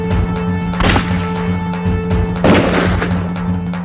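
Gunfire effect in a film depicting police firing indiscriminately on kar sevaks in November 1990: loud, booming shots at close range, two main reports about a second and a half apart, over a steady humming music bed.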